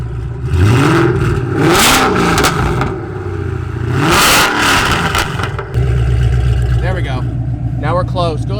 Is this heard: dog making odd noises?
no